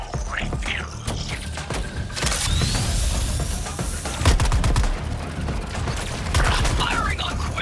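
Rapid bursts of video game gunfire in Suicide Squad: Kill The Justice League rattle in volleys, sharp repeated shots mixed with mechanical clanks and thuds, moderately loud and continuous throughout.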